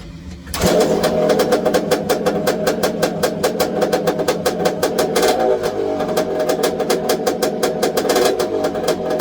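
A small carbureted engine, run for a Keihin versus Nibbi carburetor comparison, catches abruptly after a moment of quiet and settles into a loud, steady idle with a rapid popping exhaust pulse.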